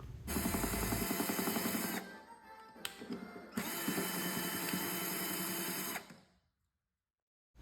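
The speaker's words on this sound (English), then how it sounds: "Start by removing 4 visible screws on this side." Power screwdriver whirs in two loud bursts, removing screws from the side of a Tennis Tutor Model 2 ball machine, with a short pause and click between them before stopping abruptly.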